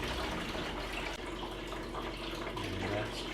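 Water drains steadily from a film developing tank while C41 color negative film is processed, making a continuous rushing, gurgling wash of liquid at close range with no pauses.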